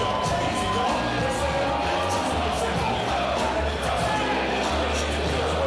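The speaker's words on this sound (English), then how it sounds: "The Phoenix Jody Fleisch makes his way to the ring to a loud roar from the crowd" Wrestling crowd at a live show roaring as wrestler Jody Fleisch heads to the ring, a continuous loud wash of cheering and crowd noise with voices mixed into the din.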